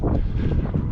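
Gusty wind buffets the microphone outdoors on a windy day, a low, loud rumble that pulses unevenly for about a second.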